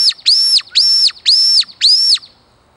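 Four sharp, high-pitched whistled squeals in a steady rhythm from a squirrel call whistle, loud and close, imitating a baby squirrel's distress cries, then silence.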